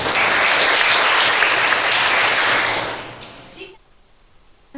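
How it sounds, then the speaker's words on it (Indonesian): Classroom applause rings out for a student, steady and fairly loud for about three seconds, then fades away into quiet room noise. "Boleh tepuk tangan untuk Pratama."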